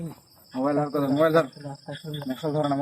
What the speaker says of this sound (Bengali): খালি ঝিঝি পোকার ডাক।